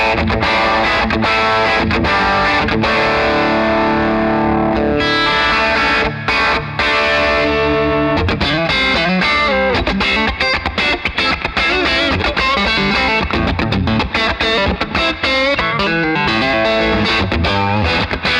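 An electric guitar played through a Victory Duchess MKII tube amplifier, loud and continuous, with distorted, driven chords and strummed passages ringing out alone for most of the passage.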